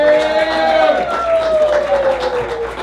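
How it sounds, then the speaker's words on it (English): An audience gives a round of applause at a variety show: crowd clapping and cheering with voices mixed in, steady and fairly loud for a few seconds. "Give him a round of applause, everybody."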